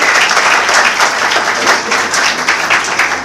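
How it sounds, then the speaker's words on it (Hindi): Loud, sustained audience applause at a felicitation ceremony honouring police work, dense clapping filling the whole stretch without a break. "उसके लिए एक बार पुलिस के लिए भी जोरदार तालियां होनी चाहिए।"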